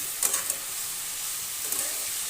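Snake gourd with slit green chillies and a little turmeric stirred in a hot pan: a steady bright sizzle and hiss, broken by two short scraping stirs near the start and end.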